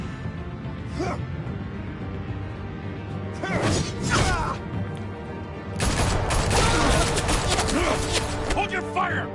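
Gunfire in the Telltale Batman video game: a few scattered shots, then a dense rapid volley of bursts at close range, with voices and other action sounds mixed in.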